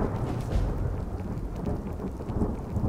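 Thunder rumbles steadily through a rainstorm, a dense low roll with rain hissing on surfaces throughout, loud and continuous with no voices.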